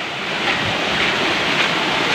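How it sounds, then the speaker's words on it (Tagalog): Roaring, continuous rush of sea waves surging around a flooded island, loud and close with a broad, steady wash and gusting wind noise, no voices. "Sumaalon din ang dagat."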